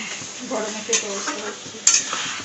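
Food cooks in a pan with a steady sizzling hiss, broken by a couple of sharper scrapes or clinks of a utensil against the pan, over low background clatter.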